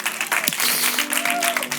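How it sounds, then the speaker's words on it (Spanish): Audience clapping at a live event, a dense, steady burst of applause filling the space, with a voice and some crowd noise mixed in. "Más fuerte ese aplauso,"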